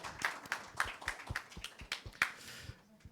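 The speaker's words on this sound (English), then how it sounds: "A round of applause for him." Sparse, faint clapping at an awards ceremony honouring international ophthalmologists, roughly steady claps from a small audience that stop near the end.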